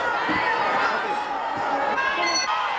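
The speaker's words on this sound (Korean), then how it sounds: "2만 관중들의 열띤 응원과 환호 속에서 아픔도 잊은 채 2라운드를 맞았다" A 20,000-strong crowd cheers at a Mexican lucha libre wrestling match, a dense, loud and continuous roar with voices rising and falling through it.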